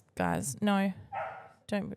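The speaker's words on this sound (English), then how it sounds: "That was my dog." A dog barks a few times at close range, short loud yaps overlapping with people talking over them.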